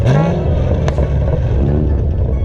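A Camaro ZL1 engine rumbles loud and close with a brief rising rev and clattery low growl as the car is eased into a parking spot.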